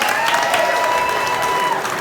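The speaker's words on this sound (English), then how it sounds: "Let's give our president Billy Hughes a round of applause" Applause and crowd noise at an MML rally after the association president, Billy Hughes, is introduced, a steady dense wash of clapping lasting the whole stretch with a faint tonal hum beneath.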